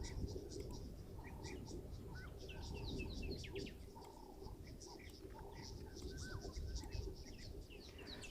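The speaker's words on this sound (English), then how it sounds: "But it was a helmeted guinea fowl." Helmeted guinea fowl calling outdoors, with repeated chirping and squawking calls scattered through a steady background of other birds and ambient noise, moderately distant.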